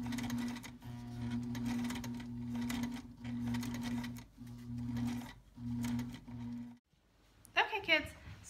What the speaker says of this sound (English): You want to top stitch the ribbon down.